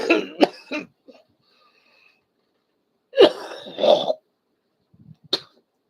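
A man coughs and clears his throat several times, close to the mic: a few sharp, hacking bursts, then after a pause a longer, rougher coughing fit, and finally a single short cough.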